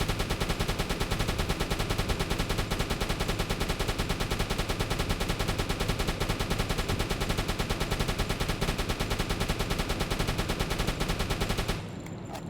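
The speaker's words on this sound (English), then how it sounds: "So let's fire 120 rounds if he has to reload" Continuous automatic gunfire from a deck gun aboard a Type VIIC/41 U-boat in a 1942 naval combat game, a steady rapid stream of shots running loud and unbroken for about twelve seconds before cutting off abruptly.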